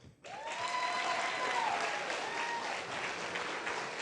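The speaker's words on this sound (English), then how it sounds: "you got to give a round of applause" A crowd at the 25th anniversary celebration of the Arkansas Martin Luther King, Jr. Commission breaks into sustained applause for a new chairwoman, starting suddenly and holding full and even, with a few high whoops or whistles cutting through.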